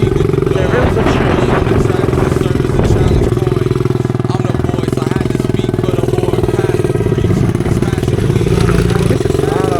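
Small pit bike engines, a Honda CRF50F among them, buzzing steadily at close range as dirt bikes are ridden, with a constant loud drone and occasional clatter.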